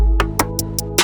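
A produced hip-hop beat drops in with a steady, sustained bass and melody under crisp, evenly spaced percussive hits roughly every fifth of a second, loud and close with no talking.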